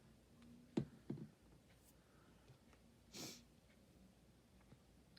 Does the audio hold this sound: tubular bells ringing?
no